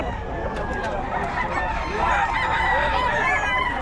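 Rooster crowing amid a poultry seller's stock of fowl in Taguig, with clucking birds and people talking throughout a busy, continuous backdrop.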